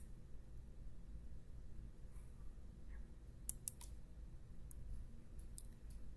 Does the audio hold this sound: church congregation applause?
no